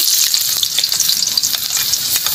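Garlic and ginger fry in a hot kawali, a loud, steady, close sizzle with bright crackling spatter and occasional stirring scrapes throughout.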